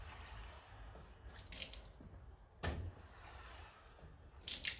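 A Yocada sponge mop's squeegee wipes water off a table in a few quiet, soft swishing strokes spaced a second or so apart against a faint background, with no talking.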